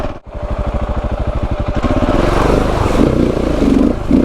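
A KTM 690 Enduro motorcycle rides an off-road track. Its engine beats in a quick, even rhythm, then grows into a louder, rougher roar as the bike accelerates close by.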